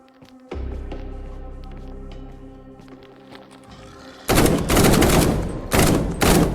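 Loud bursts of rapid gunfire ring out in M.I.N.S.K., a post-apocalyptic survival video game, in three close volleys that follow a stretch of steady droning music and low rumble.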